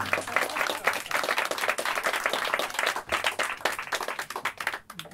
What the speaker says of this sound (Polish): Można klaskać, bo to była piosenka tylko bez melodii.